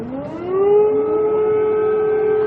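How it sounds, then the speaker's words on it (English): Civil defense air raid siren wailing over Kyiv, a single sustained rising tone that swells and then holds steady, loud and alone without voices. "Air raid sirens have been sounding in Kiev"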